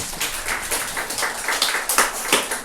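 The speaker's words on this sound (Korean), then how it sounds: "박수를 좀 보내주시면 감사하겠습니다" A church congregation claps in encouragement after a sermon, a dense, continuous wash of many hands clapping with a few sharper individual claps near the end, no talking over it.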